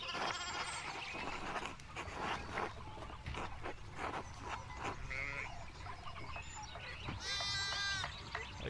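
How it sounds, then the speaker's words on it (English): Sheep bleating in the medieval adventure game Pentiment, several high wavering calls rising over a busy bed of ambient farm noise and movement, one loud bleat standing out near the end. "Martin, would you start herding the sheep already?"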